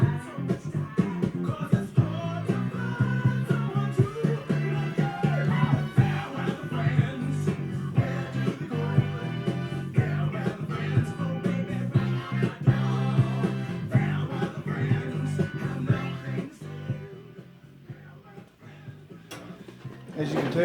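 A vinyl record on the Goldhawk label plays a rock beat with funky grooves. Dense drums, bass and guitar run steadily in the background throughout, dipping briefly near the end.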